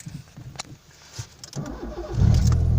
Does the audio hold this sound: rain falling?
no